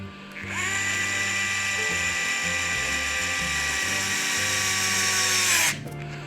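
A power driver cinching screws on an Axial SCX10 III RC crawler, a steady high-pitched motor whine that holds for about five seconds with stuttering low pulses beneath it before cutting off sharply.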